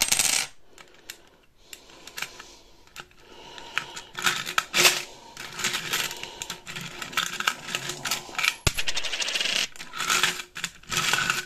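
Coins dropped one after another into holes in a camper van floor during a conversion, each landing in a sharp metallic clink, irregular and close, with brief handling sounds between drops and no talk.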